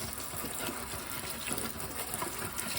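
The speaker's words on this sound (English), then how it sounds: "We're going to start by rinsing off our tomatoes." Running tap water rinses Roma tomatoes, a steady close splashing and gushing stream that continues without break.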